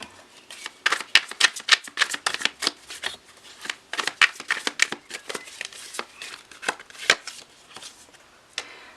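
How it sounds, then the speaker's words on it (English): Tarot cards shuffled by hand in a loose, messy overhand style, giving a close run of crisp riffling bursts and slaps with short pauses between them, alone and without talk. "this is how I shuffle my cards"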